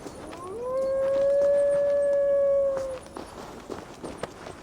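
A wolf in the video game Assassin's Creed Valhalla lets out one long, steady, tonal howl lasting about two seconds, loud and near, followed by soft footsteps and game ambience.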